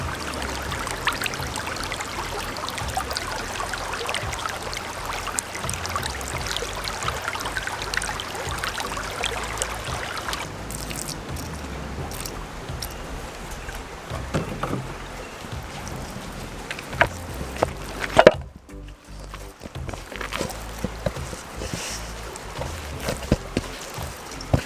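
River water flows steadily around food left soaking in it during outdoor cooking, a continuous close trickling and babbling wash that thins out partway through, with no talk.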